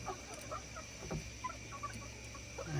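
Chickens in a bantam run give soft, scattered clucks close by in a quiet coop, with only faint background noise.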